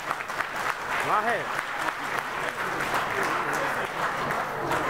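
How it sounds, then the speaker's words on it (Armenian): Loud, steady applause from wedding guests for the parents of the couple at an Armenian wedding, a dense clapping wash that runs throughout with a voice heard over it. "եկեք միասին բարձր ծափ արենք մեր թանկագին ծնողներին"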